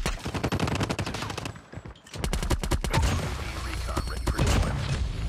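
Rapid bursts of automatic gunfire from the GKS Unicorn weapon in a video game, loud and close with dense repeated shots, a brief pause, then more sustained firing.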